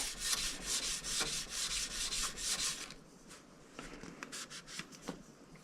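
An antique tool's steel blade is polished to a sharp edge with rhythmic back-and-forth rubbing strokes, close and moderately loud, about two per second, growing lighter and sparser halfway through.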